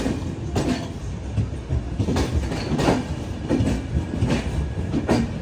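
Mangaluru Express sleeper-class coach rolling on the line, a steady rumbling roar broken by repeated rhythmic clickety-clack bursts from the wheels passing rail joints, close and continuous.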